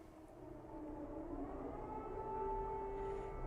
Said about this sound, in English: air raid sirens are going off in Lviv